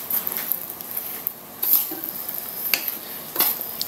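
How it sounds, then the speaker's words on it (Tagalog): A utensil stirs and scrapes through a moist patty mixture of ground meat, breadcrumbs and egg in a bowl. Close, soft, irregular scraping comes in a few louder strokes over a faint background hiss. "Haluin natin."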